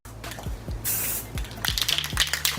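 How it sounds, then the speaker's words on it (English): Rust-Oleum gloss white spray paint: a can rattles with ticking clicks, and then a short hissing test burst is sprayed. More rattling and brief spurts follow, all close up and fairly quiet. "Little test spray"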